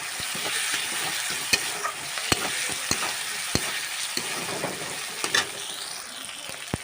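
Spice masala with chopped medium tomato sizzling in a pan for Bengali ghugni, with steady frying hiss and regular sharp spatula taps and scrapes, close and clear.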